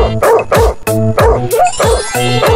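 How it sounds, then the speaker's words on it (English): A cartoon dog barks in a children's song, a series of bright, close, rhythmic barks in quick succession over music. "There was the farmer had a dog, and Bingo was his name"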